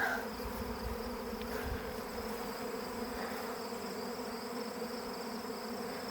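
A honeybee swarm hums steadily and densely all around near the hives, a continuous close-up buzz with single bees zipping past now and then.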